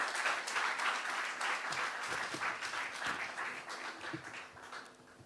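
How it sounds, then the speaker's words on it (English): An audience applauds steadily as the AfDB president walks to the podium to give his opening address at a launch event, with dense clapping that holds throughout and eases slightly toward the end. "Please give him a warm round of applause."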